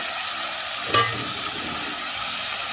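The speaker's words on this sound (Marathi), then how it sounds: "आता आम्ही हे जे शिजलेले मूग असतात ते घालूया" Cooked mung beans tipped into a hot pan for a traditional Goan dish, with a brief clatter as they land, then steady sizzling and stirring that carries on throughout without any voices.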